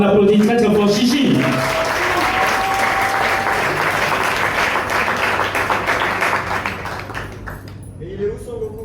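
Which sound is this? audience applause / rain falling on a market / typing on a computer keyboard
audience applause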